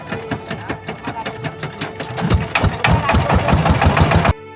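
A river trawler's engine chugs in a fast, loud, knocking rhythm that grows heavier midway, then cuts off abruptly near the end.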